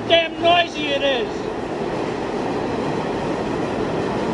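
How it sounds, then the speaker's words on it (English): A New York City subway train roars loudly and steadily, with brief high squealing tones at the start over the continuous rumbling clatter. "One of the things I forgot about the New York City subway system is how goddamn noisy it is."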